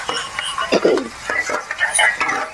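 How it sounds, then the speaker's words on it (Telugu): Tomato and turmeric for a prawn curry are stirred in a pan nearby, with short scrapes and light clinks of the spoon against metal over a faint sizzle. "తర్వాత టమాటా వేసుకొని మంచిగా కలుపుకోవాలి"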